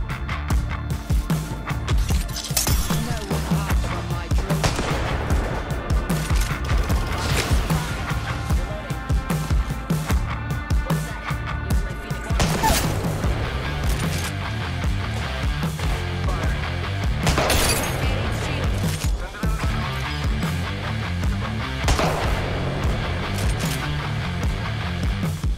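Apex Legends gunfire from a Kraber sniper rifle and a Mastiff shotgun cracks out in several sharp, loud shots amid a busy game soundscape with music and effects.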